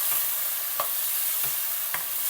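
Small chicken cubes cooking in hot oil, a steady even sizzle with a few soft stirring clicks spaced apart, no talking.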